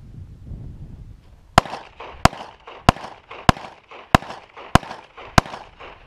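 Fireworks go off in rapid fire, seven sharp, loud bangs at an even pace about two-thirds of a second apart, each followed by a short echoing rumble outdoors in snow.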